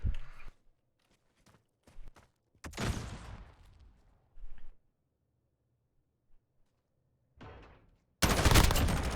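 Gunfire in a Call of Duty Modern Warfare esports match, played in short bursts and single shots with quiet gaps between them. Footstep-like shuffles come in between, and a loud sustained volley closes the stretch.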